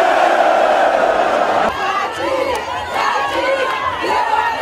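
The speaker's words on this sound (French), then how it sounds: "La foule compacte venue accueillir le candidat Tshisekedi" A large, packed crowd at a Tshisekedi presidential campaign rally in Congo roars and cheers, a loud sustained mass of voices that shifts into scattered shouts and whoops.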